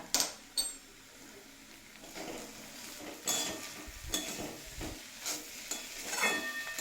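A spoon scrapes and clinks in a pan as dry-roasted spice mix is stirred into a thick cabbage curry, giving quiet repeated strokes over a faint sizzle, close by and without talk.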